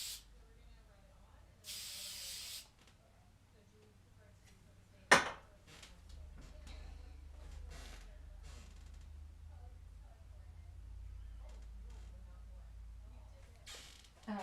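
Short hairspray bursts of hiss misted onto a boho bridal updo in a hairstyling class, one clear spray burst early then a sharp click, with quiet room noise and some talk afterward.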